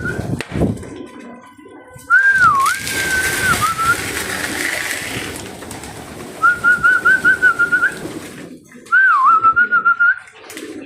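Racing pigeons at feeding time, with several clear whistling, warbling calls that come in short bursts over a soft, low background of birds.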